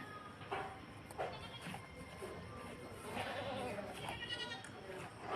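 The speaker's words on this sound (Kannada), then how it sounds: "ಒಳ್ಳೆ ಪಕ್ಕ ಹಳ್ಳಿ ನಾಟಿ ಮರಿಗಳು ಕುಯ್ತಾ ಇದ್ದೀನಿ" Native village goat kids bleating nearby, several short wavering calls repeating at irregular intervals over a background of voices talking.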